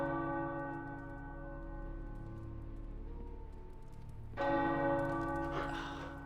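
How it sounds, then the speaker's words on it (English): Tower bells in Marvel's Midnight Suns ring with sustained, humming tones, a fresh strike swelling louder partway through, set over faint patter, with no voices. "The tower bells are ringing."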